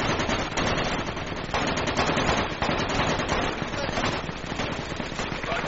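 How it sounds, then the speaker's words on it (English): Sustained automatic gunfire in a military video game, loud, dense rapid bursts filling the whole stretch, with voices calling out over the shooting. "We're taking fire. I want everybody suppressing fire."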